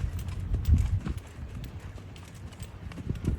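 A Tennessee Walking Horse doing a running walk on slippery arena footing: a steady, rapid series of dull hoofbeats thudding close by, with a soft background hiss and no talking.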